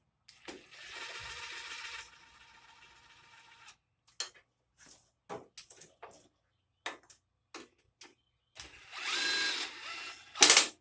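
Short bursts from an impact wrench lightly snug head gasket bolts on a John Deere LA100 lawn tractor's 18.5-horsepower Briggs engine: a couple of sustained whirs plus scattered sharp clicks and taps, fairly quiet, with no talking.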